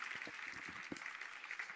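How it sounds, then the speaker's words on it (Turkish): Spectators on the centre court at a WTA Istanbul Cup tennis match applaud after a rally, a faint, even patter of clapping from the stands. "Alkış koptu merkez kortta."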